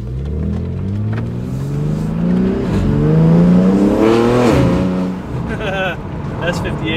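A BMW G8X with the S58 engine and a carbon fiber intake accelerates hard, its rising harmonic engine note climbing through the gears, loud and close from inside the car, with people talking over it.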